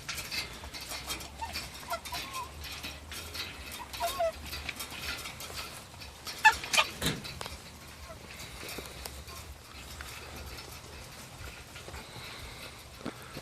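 Meat chickens crowd a feeder inside a chicken tractor, giving soft scattered clucks and pecking sounds at close range, with low background noise and a brief louder flurry midway.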